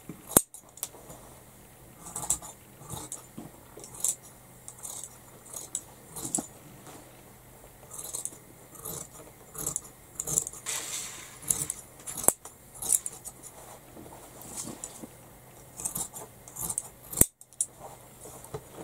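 Scissors snipping through fabric to cut out mittens, close and fairly loud, with irregular clicks and slicing strokes interrupted by brief handling rustles and small metallic clinks.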